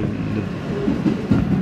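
An R160B subway train on the N line, running from 62nd Street–New Utrecht Avenue, gives a steady low rumble heard from on board, with a few soft thumps over the joints near the end.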